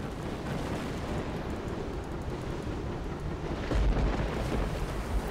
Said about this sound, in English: he can just keep shooting volleys one after another